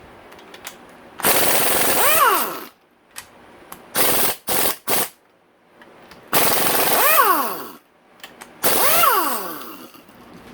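A pneumatic impact wrench working a nut on a 2017-2024 Honda CRF450R motorcycle engine during a rebuild, with four loud hammering bursts of several seconds and short blips between them, each winding down with a falling whine.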